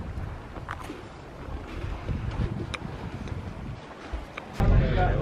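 Boat sailing on open sea on a trip around the Maldives, Sri Lanka and Thailand: a steady low engine and water rumble under gusting wind buffeting the microphone, with a louder surge of wind and water near the end.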